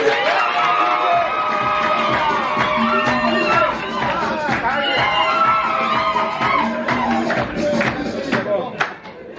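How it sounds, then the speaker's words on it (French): An audience at a civil wedding in Garoua claps and cheers, with loud whoops and excited voices layered over steady applause that carries on for several seconds before thinning out. "Sous vos applaudissements"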